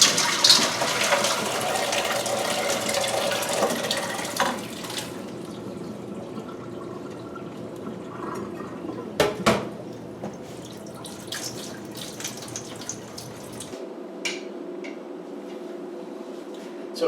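Water runs and splashes as blanched peas are drained, likely into a sink or colander, with a steady pour that tapers into scattered drips and small clanks, close by.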